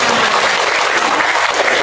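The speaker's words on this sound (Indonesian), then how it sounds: "Tepuk tangan untuk kita semua." Loud, dense applause from a workshop audience at an Islamic institute campus, steady clapping filling the room without a break.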